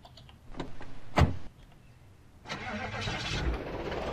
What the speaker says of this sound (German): Ja, wenigstens ist das Auto gleich angesprungen.